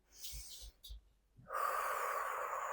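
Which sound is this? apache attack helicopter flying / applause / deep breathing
deep breathing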